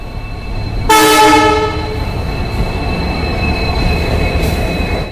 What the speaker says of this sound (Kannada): ನಾವು ಹೋಗಿ ನಿಂತು ಒಂದು 5-10 ನಿಮಿಷದೊಳಗೆ ನಮ್ಮ ಟ್ರೈನ್ ಬಂತು